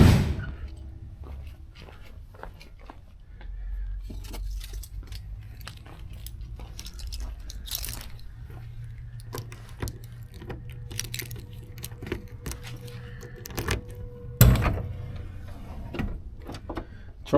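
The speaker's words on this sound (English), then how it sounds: "Let me grab the keys so I can pop the trunk." Keys to a 1965 Ford Mustang jangle and clink in short bursts over a low rumble, with scattered handling noises and a louder knock near the end.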